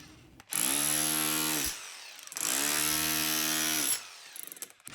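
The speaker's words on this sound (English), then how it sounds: "Then we come in with the demo hammer." Demolition hammer breaking apart scrap metal, two long loud bursts of rapid buzzing hammering separated by a short pause, close and alone without talking.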